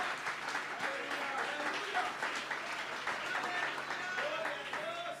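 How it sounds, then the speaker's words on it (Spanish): Church congregation applauding at a Bonaire campaign service, a steady wash of clapping filling the space throughout, with voices and shouts mixed in underneath. "Dele fuerte ese aplauso al Dios"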